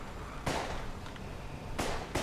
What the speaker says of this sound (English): So many gunshots.